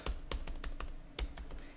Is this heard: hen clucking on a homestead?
no